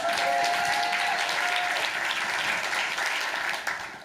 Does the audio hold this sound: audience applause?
yes